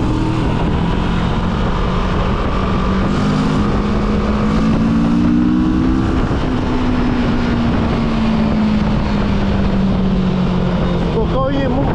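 Touring motorcycle engine pulling hard under throttle, a steady loud drone with rising and falling pitch over heavy wind buffeting, close and continuous throughout.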